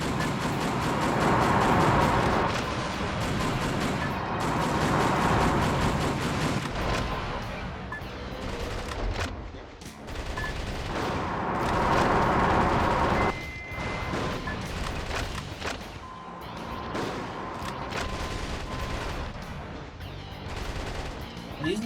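In the video game Metal Wolf Chaos XD, heavy gunfire and explosions sound continuously as missiles are shot down. The dense, loud barrage has only brief lulls, with game music and effects layered underneath.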